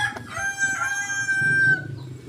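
A large farm bird, likely a turkey, gives a loud, drawn-out call of about two seconds, with a short sharp note just before it, fairly close and without talk over it.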